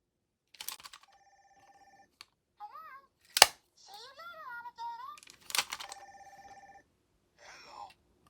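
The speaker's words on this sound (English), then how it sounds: "Next we have our Sesame Street Cookie Monster and Elmo phone." A vintage Sesame Street toy phone featuring Cookie Monster and Elmo gives off a string of electronic ringing and chirping tones, with a loud clack partway through and a childlike voice between the sounds, close and clear.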